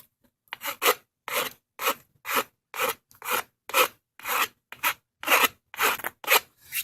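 A rasp files the rough edge of a plastic sand scoop in about fourteen rhythmic, scratchy strokes, each a short rasping burst separated by brief pauses, close and clear with no talk.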